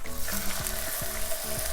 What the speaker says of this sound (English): I'm gonna put some more olive oil to cook the rest of the steak